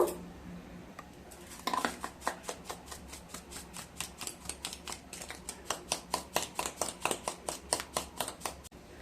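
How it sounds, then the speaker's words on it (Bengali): A spoon stirs black salt into a glass of healthy juice, striking the glass in a quick, steady run of close, bright clinks that continues without a break and has no voices over it. "চামচ দিয়ে একটু গুলে নেব"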